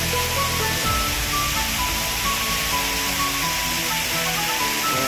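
A waterfall at a resort pours in a dense, steady roar of rushing water, loud and close, with no break across the whole stretch.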